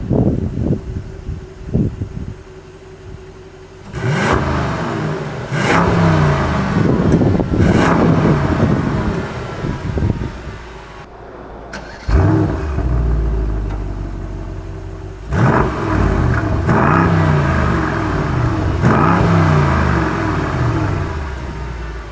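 A 2020 Mercedes-AMG S63 Coupe with a quad-tip exhaust, starting up and revving repeatedly near the tailpipes: deep burbling rumble, rising blips falling back to idle, several distinct throttle bursts with brief quiet gaps between.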